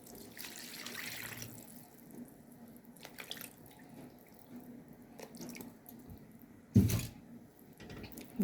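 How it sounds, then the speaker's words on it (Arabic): Milk is poured over sugar in a pot while making traditional rice pudding, a soft liquid trickle and splash close by, with a brief louder splash near the end. "احط بقى عليه اللبن برضو."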